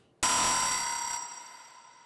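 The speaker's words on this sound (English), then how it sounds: "Yeah, I did a lot of time stretching on this one in order to make a sort of crash sound." Heavily time-stretched sample shaped into a crash sound with ring modulation, distortion, clipping and reverb: one sudden loud, bright metallic hit with sustained ringing tones that slowly fade.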